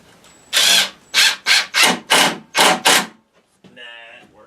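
A power drill whirs in seven short bursts of about half a second each, driving screws into wood, followed by a brief higher-pitched buzz.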